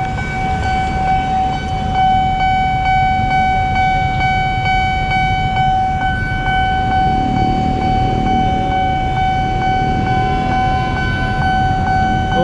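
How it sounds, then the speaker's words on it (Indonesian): A KRL JR 205 electric train arriving during a delivery, with steady loud rumble and a sustained multi-tone horn or siren-like whine holding throughout, no talk. "Oh, dari sebelah sana tuh keretanya."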